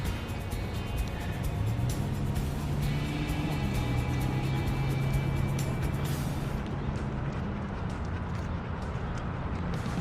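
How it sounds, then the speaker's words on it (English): Cars roll along a road beside a dog-training session, with a steady low engine and tyre rumble that swells and fades slightly as vehicles pass at moderate distance. Faint background noise sits under it. "We got a lot of cars still coming in."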